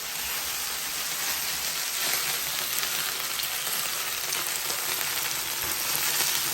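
Chicken and vegetable stir fry sizzles steadily in a hot pan while being tossed and mixed, a continuous close frying hiss with faint scraping of stirring and no talk.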